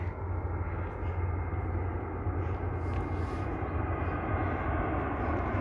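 A fixed-wing airplane passes overhead during a walk in a relaxing park spot near woods, a low, steady engine rumble that holds evenly throughout, distant and moderately quiet, with no talking.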